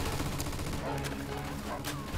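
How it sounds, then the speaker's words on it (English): Minigun fire in the video game Mafia 2, a dense rattling burst of rapid shots with a few sharper cracks, heard at mid distance over game ambience and some voice. "That guy with that minigun is no joke"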